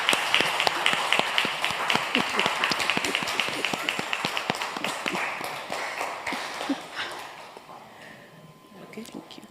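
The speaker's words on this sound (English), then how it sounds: "Just to give them a clap of hands" An audience stands and claps for health workers at a COVID update briefing: dense, rapid applause that slowly thins and fades, with voices mixed in.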